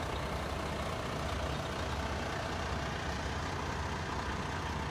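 A four-wheel-drive truck idles with a steady, even low rumble and broadband engine noise that holds constant throughout, without talking.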